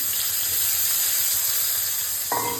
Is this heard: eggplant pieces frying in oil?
yes